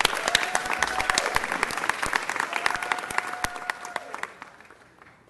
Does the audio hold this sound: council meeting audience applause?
yes